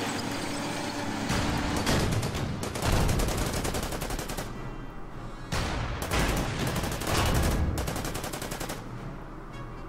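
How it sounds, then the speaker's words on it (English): Artillery fires on a Valentine tank in the WWII strategy game Order of Battle, a series of loud, rattling blasts and rapid bursts in several clusters with short quieter gaps between them. "And the artillery will attack the Valentine."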